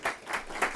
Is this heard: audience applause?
yes